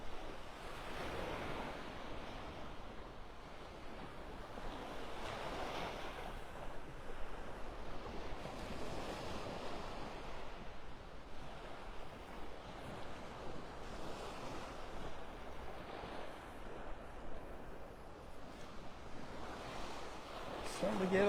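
Gulf surf washing onto the beach in North Naples, Florida, with waves breaking in slow repeated swells and a constant rush of wind noise on the microphone.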